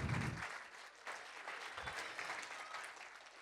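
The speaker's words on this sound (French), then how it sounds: "On peut les applaudir." An audience applauds at a men-of-the-year awards ceremony, a fairly faint, even wash of clapping from the crowd that continues after a brief low thump at the start.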